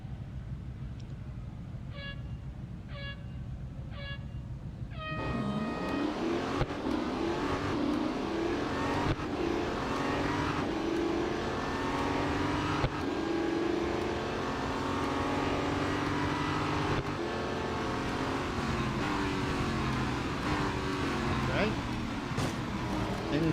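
In the Real Racing 3 game on the Dubai national circuit, a race car engine revs hard and rises through gears with rising and falling pitch sweeps. Short beeps come first, and someone talks over the engine throughout.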